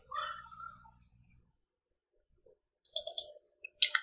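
Mouse clicks on a computer while drafting a wooden platform bed's material takeoff in modeling software: a quick cluster of crisp clicks after a pause, then another short burst near the end, close and fairly loud, with a faint voice-like murmur at the start.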